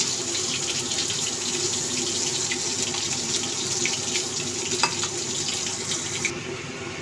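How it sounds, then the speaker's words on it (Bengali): Water poured into a cooking pot while preparing a fish dish, a steady close splashing stream running continuously before stopping near the end. "এবার জলটা দিয়ে দেবো।"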